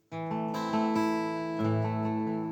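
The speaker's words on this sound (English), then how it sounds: "Or me picking the guitar," Plucked acoustic guitar notes ring out one after another in a slow, steady pattern, sustained and close, with no voices.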